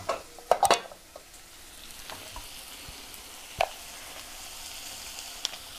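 Onions and kambala stalks fry in a pan for a Telugu curry, a soft steady sizzle with a few sharp clinks of a stirring spoon near the start and once midway.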